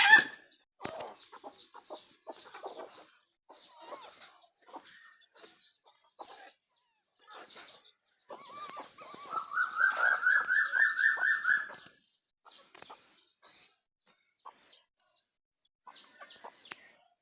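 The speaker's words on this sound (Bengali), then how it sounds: "এই দেখেন আমার দিকে ধেয়ে আসছে একটা মোরগ।" Village roosters clucking close by in short scattered bursts, with one louder drawn-out call rising midway, in an otherwise quiet rural yard.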